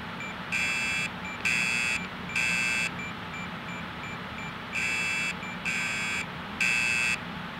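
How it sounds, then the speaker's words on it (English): Roblox fire alarm panel sounding in-game: six evenly spaced electronic buzzer-horn bursts, each about half a second long, with a pause in the middle of the sequence, loud and steady over a low background hum. "Goofy fire alarm panel."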